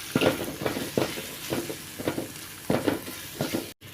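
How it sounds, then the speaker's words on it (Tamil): Onion-tomato masala sizzles in a pan with tamarind curry powder, chili powder, coriander powder and turmeric while a spoon stirs it in repeated scraping strokes about every half second, close and steady over a soft frying hiss. "இப்போ நல்லா கிளறி விட்டுக்கலாம்."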